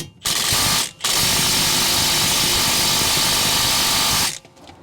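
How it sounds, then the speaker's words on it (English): A Toyota Corolla's front brake caliper bracket bolts get hit with an impact wrench through a wobble extension: two loud, sustained hammering bursts, a short one and then a long one of about three and a half seconds, close up. "when we use the impact wobble, that takes away some of our power, and that was not enough to break that loose"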